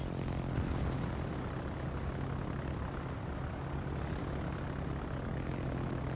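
Attacker aircraft engines drone steadily through a naval battle game, a continuous propeller hum with a low, even buzz that holds at a constant level and stays up close.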